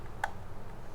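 A single crisp, quiet click from an Asus TUF Gaming M3 Gen II gaming mouse button, short and close up against a soft background hiss.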